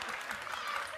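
A lone audience member at a television talk show claps in a quick, steady patter, fairly soft and set against a light murmur of room noise.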